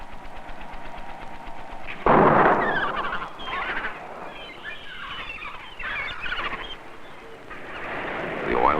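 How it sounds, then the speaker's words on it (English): Automatic propane cannons firing along a beach to frighten waterfowl away, giving sharp loud blasts at intervals, the strongest about two seconds in, followed by several softer booms over a steady noisy background. "31 automatic propane cannon have been stationed along miles of beach to keep waterfowl away from"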